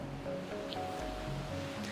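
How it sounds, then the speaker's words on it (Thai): Sea waves wash onto a sandy beach at Rayong, Thailand, a steady soft rush of surf heard close and alone. "ได้ยินเสียงของคลื่นไหม ที่มัน กระทบ เข้า หาดทรายฟังฟังกัน"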